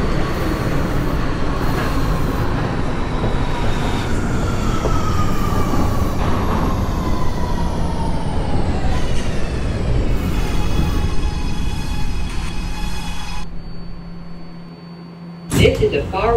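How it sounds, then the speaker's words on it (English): R211A subway train on the A line toward Far Rockaway in the OpenBVE train simulator game, a loud steady rumble with rising motor whine that slows and stops, followed by station announcements. "This is a Far Rockaway bound A train."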